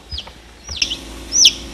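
Chicken clucking indoors around an egg incubator, a few short clucks then a louder rising call near the end, close and clear with no talk.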